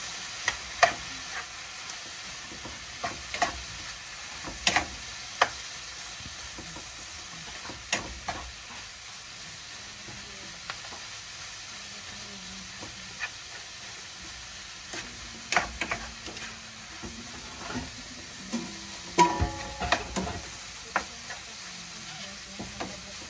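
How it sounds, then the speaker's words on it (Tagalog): Soft, steady sizzling of tofu frying in a pan, punctuated by occasional scrapes and taps of a spatula stirring. "prito lang po natin yung tofu natin."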